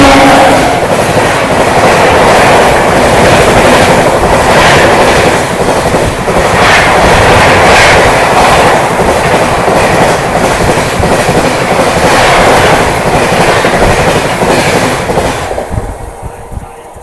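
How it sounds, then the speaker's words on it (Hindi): The Madgaon Rajdhani Express thunders past at close range while overtaking, a loud, continuous roar with rhythmic clickety-clack of wheels over rail joints, easing off at the very end. "ये है तीसरा overtaking 22414 Madgaon Rajdhani express overtaking."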